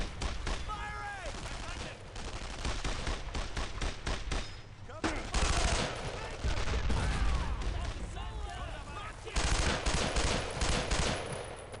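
Repeated bursts of rifle and machine-gun fire in the WWII shooter Brothers in Arms: Road to Hill 30, loud and continuous across the clip, with shouted voices mixed in among the volleys.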